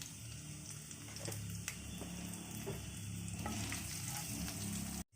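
Hot oil sizzling with chilli, salt, turmeric and asafoetida as the spices are stirred for a batata vada potato filling, with steady frying crackle and occasional scrapes of a spoon against the pan.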